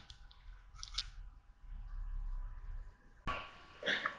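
Scissors cutting fabric, a few distinct close snips and crisp blade clicks separated by quiet pauses, with a faint low background hum.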